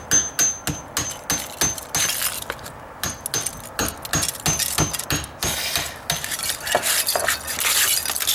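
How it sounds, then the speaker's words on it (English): Rapid metallic tapping of a hammer on the metal end of a tool, dozens of quick clinking strikes in an uneven rhythm, close and sharp, with occasional jangling. "I can just tap it with my hammer."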